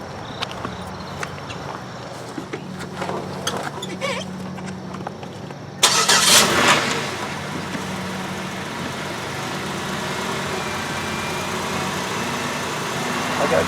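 A 2006 Buick Lucerne's engine catches abruptly with a loud burst, then settles into a steady, fairly quiet idle. Before the start there are clicks and handling sounds, and the idle continues alone.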